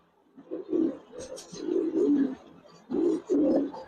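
Giribaz racer pigeon cooing close by in three throaty, rolling bouts separated by short pauses, with no talk.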